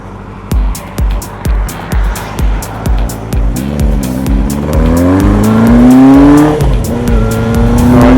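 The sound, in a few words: motorbike engine running in recorded footage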